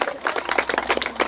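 A small crowd clapping for prize winners at a school rangoli contest, a brisk, uneven patter of hands across the whole moment, fairly close.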